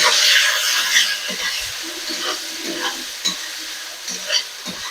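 Onions fry in oil in a pan for a chicken curry, a loud steady hiss and sizzle, strongest at first, with occasional stirring knocks close by and no speech.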